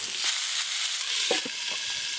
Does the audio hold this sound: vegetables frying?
yes